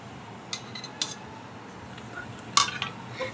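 Grated carrot and khoya stirred in a pan for gajar halwa, heard as a few sharp, scattered clinks of a spoon against the pan over a quiet, soft background.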